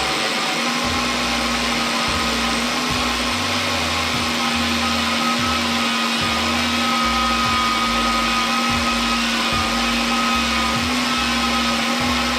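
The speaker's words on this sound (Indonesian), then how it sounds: "Ini blender aku akuin sih emang." A kitchen blender runs continuously with a loud, steady motor whine and rhythmic thumping underneath, close and sustained throughout with no speech.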